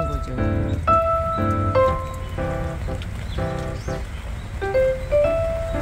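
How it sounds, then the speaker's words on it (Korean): Water from watering geraniums patters and drips onto potting soil in a rain-like scatter of soft taps, with bright tonal pings mixed in at moderate level. "저 밑에 상토 위에 물 떨어지는"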